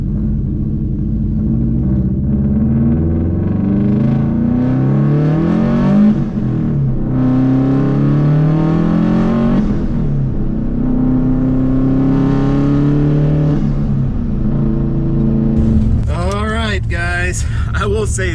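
Tuned Subaru with big power mods accelerating hard on a street pull, engine note rising and falling through repeated gear changes, loud and close from inside, with talking over parts of the run.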